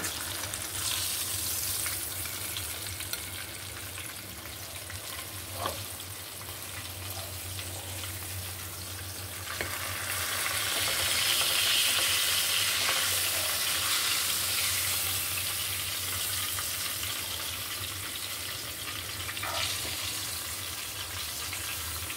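Koi fish frying in oil in a pan, a steady hissing sizzle that swells in the middle and carries on evenly, with a few faint taps from the utensil.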